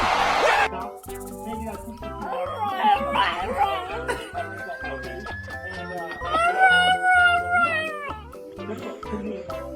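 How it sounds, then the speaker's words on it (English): Dog howling in a long, wavering, rising cry mixed with higher meow-like whines, moderately close, over light background noise. "His howls are precious and he is a cutie."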